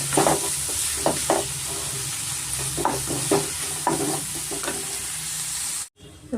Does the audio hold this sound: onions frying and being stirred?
yes